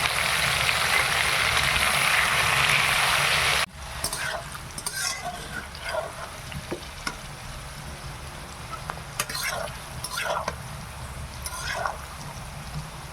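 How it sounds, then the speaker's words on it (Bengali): Jackfruit pieces drop into hot refined oil with a loud, dense hiss that falls abruptly to a softer ongoing sizzle, punctuated by stirring scrapes and clinks; no one speaks. "রিফাইন অয়েলে ভেজে নেব"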